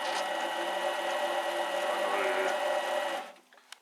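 Mini lathe cutting a thread in steel gives a steady motor whine with a constant tonal hum, running close by and then winding down near the end to a few faint clicks.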